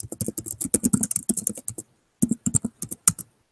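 Rapid computer keyboard typing, a steady run of close, crisp key taps that pauses briefly and then resumes in a shorter burst, with no talking.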